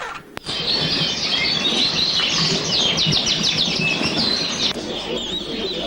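Budgerigars chirping at a bird show, a busy chorus of shrill warbles and rapid repeated tweets from many birds at once, continuous and fairly loud.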